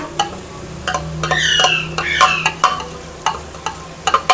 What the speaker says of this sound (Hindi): तो अब मैं इसमें ऐड कर दूंगी प्याज फ्राई किया हुआ